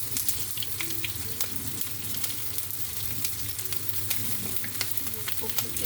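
Small appetizer bites frying in a pan, with a steady crackling sizzle and scattered pops and spits throughout, fairly close and moderately quiet, no talk.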